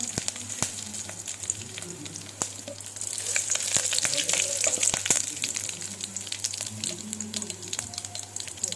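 Garlic cloves and curry leaves fry in hot oil, giving a continuous close sizzle with sharp crackles and pops that swell louder midway, then settle.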